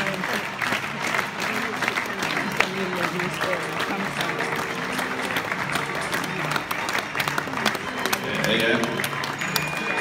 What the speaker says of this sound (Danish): så prøver vi alligevel at klappe hende ud også her